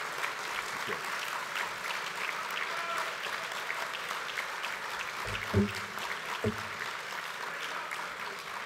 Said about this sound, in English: Please give a great round of applause to Dr Mal Bryce, the 2012 Pearcey Medalist.